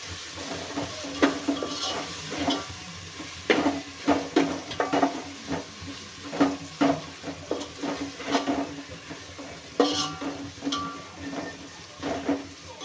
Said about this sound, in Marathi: अर्धा चमचा धनिया पावडर हे पण छान भाजून घेऊया तेलामध्ये